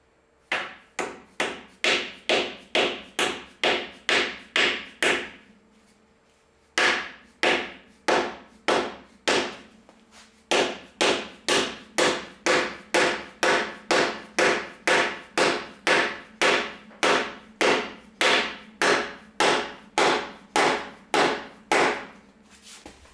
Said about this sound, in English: I'm just going to use a 4-pound dead blow. Give it a little tap, tap, taparoo.